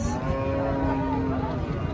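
A cow moos loudly and close by at a busy livestock market, a sustained low lowing call against steady crowd background noise.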